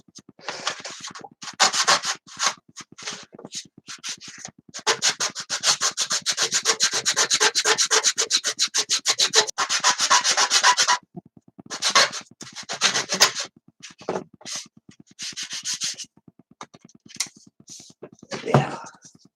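A 1/72 vacuform plastic kit part for a Hawker Siddeley Nimrod is sanded free of its carrier sheet with rapid rhythmic close-up scratching strokes, broken by short pauses, then resuming in bursts.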